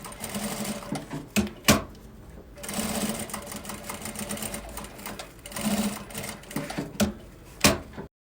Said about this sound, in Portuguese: você pode empurrar todo aqui, inclusive fica mais fácil, e costurar do lado avesso